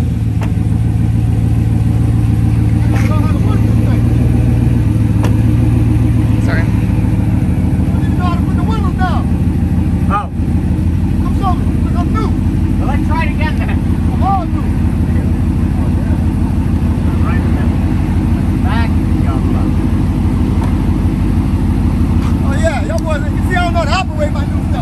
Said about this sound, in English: It's got the Corvette engine now.